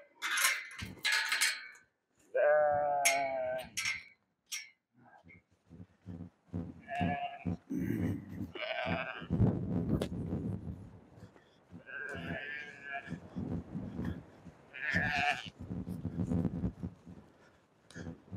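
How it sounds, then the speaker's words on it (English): Sheep bleating on a farm as grain is brought out, several calls rising and falling at close range, mixed with handling noises and someone talking to the flock. "these sheep know I got grain"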